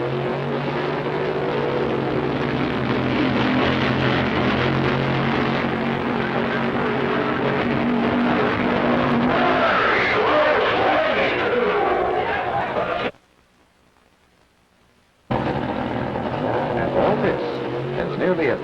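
A slingshot dragster of nearly 1,000 horsepower launching down a quarter-mile drag strip, heard as a loud, roaring engine blast that holds steady and rises, then cuts to near silence before the roar returns.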